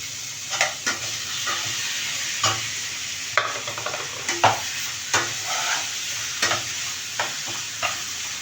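Tomatoes fry in chicken curry masala while a spoon stirs the pan, steady sizzling broken by regular scraping strokes about every half second to a second, close and fairly loud.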